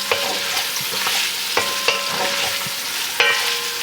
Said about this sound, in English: We're gonna take care of the onion while we're browning up the sausage.